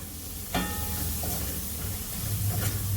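Tomatoes sizzle and fry in a pan for Jamaican ackee and saltfish, a steady close hiss with a few soft stirring scrapes and a low hum underneath.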